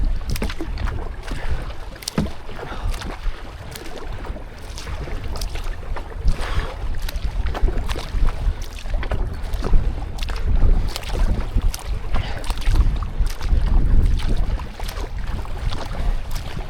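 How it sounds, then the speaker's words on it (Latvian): Oars working a rowboat during a Latvian adventure race, steady splashing strokes in a repeating rhythm over wind buffeting the microphone, close and fairly loud with no talk. "Mēs pretēji airējam, Tomas,"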